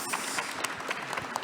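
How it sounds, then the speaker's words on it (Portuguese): Audience applause at a panel on LGBTQIAP+ voices at the Bienal do Livro book fair, a dense steady patter of many hands clapping together throughout. "Palmas, por favor, pode bater."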